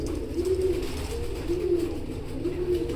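Chinese teddy pigeons cooing close by, three soft, evenly spaced rolling coos over a steady low background hum.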